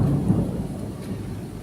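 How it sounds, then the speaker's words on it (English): Deep, rolling thunder rumbles outside an open window at night, a loud low growl that fades slowly with faint rain behind it and no talking. "Do you guys hear the thunder?"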